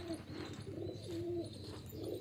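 A pigeon gives a few soft, low coos close by, repeating in a gentle rhythm against a quiet background.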